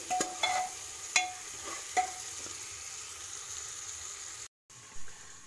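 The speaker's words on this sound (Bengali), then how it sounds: "মশলাগুলো দিয়ে ভাজা হচ্ছে" Spices and vegetables fry in a pan for a pulao-style rice and lentil dish, with a steady soft sizzle and a few sharp scraping clinks of a spoon stirring near the start.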